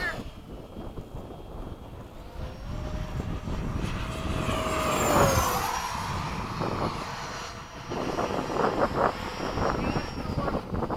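A Freewing 90mm F-22 RC jet makes a pass at the flying field, its turbine-like whine swelling to a peak and then trailing off under wind noise, with people talking nearby.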